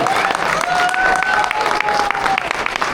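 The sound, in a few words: audience applause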